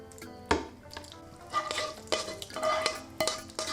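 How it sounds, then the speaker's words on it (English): Spoon scraping and tapping as shepherd's pie meat mixture is ladled from a pan onto a baking tray, a handful of sharp metallic clinks and soft scrapes at irregular intervals, close and fairly quiet. "Spoon out the mixture onto your baking tray."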